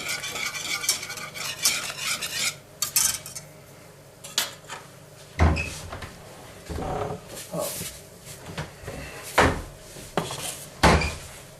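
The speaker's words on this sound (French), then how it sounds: "lorsque ça bout, donc vous remuez un peu quand même, pour que tout ça soit bien mélangé" Yam gratin mixture being stirred in a boiling pot, with repeated spoon scrapes and clanks against the pot, sizzling underneath, and louder knocks near the end.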